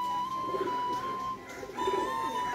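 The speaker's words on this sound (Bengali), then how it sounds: "একটা নর কবুতর," A male pigeon coos repeatedly near a home loft, soft rounded calls rising and falling over a steady background hum, with no talking.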